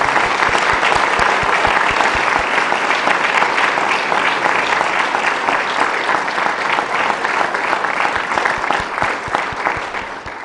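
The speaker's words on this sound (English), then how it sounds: "let's give them a huge round of applause." Loud, sustained applause from an audience at a library grant acceptance ceremony, dense clapping filling the whole stretch and tapering slightly at the end.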